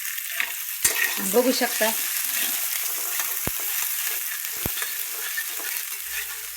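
Potatoes frying in hot oil in a pan, a steady soft sizzle under brief talk at the start, with a few sharp utensil taps and stirring sounds.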